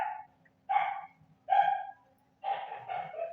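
A dog barks three times in loud, close bursts spaced by short pauses, the last a longer double bark, with no talking.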